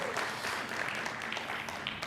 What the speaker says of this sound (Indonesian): Kasih tepuk tangan dulu buat Noah.